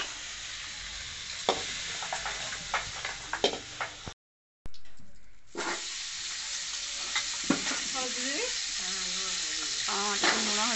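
Potatoes frying for an Odia crab curry, with a spatula scraping and stirring through the pan amid continuous sizzling; sharp clatters punctuate the hiss, a short silent gap breaks it, and faint voices sound in the background.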